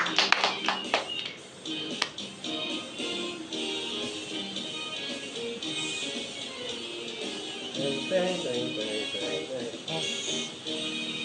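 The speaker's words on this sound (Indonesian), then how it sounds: "Beri tepuk tangan, beri kemuliaan bagi Tuhan." A church congregation claps in worship, starting with a few sharp, distinct claps that give way to steadier rhythmic clapping mixed with singing and voices across the stretch.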